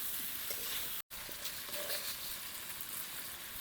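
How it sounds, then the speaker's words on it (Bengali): Fried prawns stirred in a pan for a Bengali kochur loti chingri dish, giving a steady close sizzle with scraping stirs, briefly cut to silence about a second in, with no talking. "এবারে ভেজে রাখা চিংড়ি মাছগুলো দিয়ে দেব। ভালো করে কষিয়ে নেব।"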